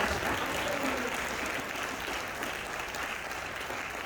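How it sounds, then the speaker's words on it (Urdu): A church congregation at an Urdu sermon breaks into applause, a broad, continuous patter of many hands, fairly distant and soft, holding steady for about four seconds. "پہلے تالیاں ہو جاؤ پھر اگلی گل."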